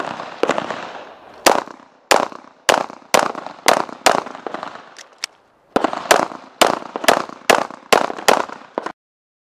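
Sharp gunshots ring out at a USPSA practical shooting match in Lower Providence, a rapid string of about seven followed by a short pause and another string of roughly seven, each crack loud and close with a brief echo.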